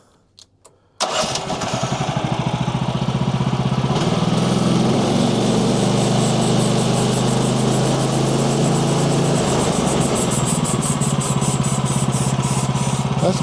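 A Woodland Mills sawmill's small engine roars to life after a brief quiet moment, then holds a loud, steady full-throttle drone close by for the rest of the clip, with no talking.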